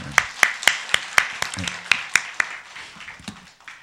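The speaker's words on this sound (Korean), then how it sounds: "좀 감사의 박수를 좀 드리고 싶습니다." A small church congregation at a weekday worship service claps in thanks, a dozen or so sharp, evenly spaced claps that soften and fade out over a few seconds.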